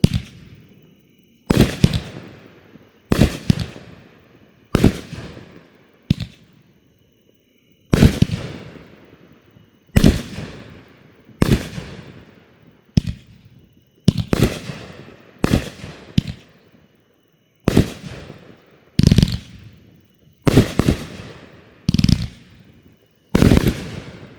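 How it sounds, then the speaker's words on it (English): Backyard consumer fireworks go off in a long, loud, close sequence of sharp cracking bursts, roughly a dozen of them at irregular intervals, each fading with a crackle before the next. Nobody speaks. "Color wave, forward fireworks."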